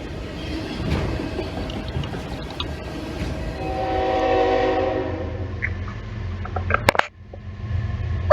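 A CSX manifest freight train rumbles past at a distance with a low steady roar, a horn sounding faintly midway, then a sharp clatter near the end.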